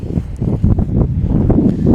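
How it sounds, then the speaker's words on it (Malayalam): Steady gusty wind on a mountain top near Taif, Saudi Arabia, buffeting the microphone, a low rumbling roar that rises and falls without pause, loud and close throughout. "പിന്നെ മലൻ്റെ മുകളിലായതുകൊണ്ട് കുറച്ച് കാറ്റുണ്ട്."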